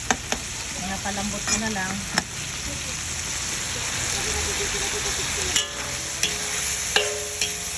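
Scrap pork meat frying until golden brown, a loud continuous sizzle with sharp spatula knocks against the pan, while a voice speaks briefly near the start.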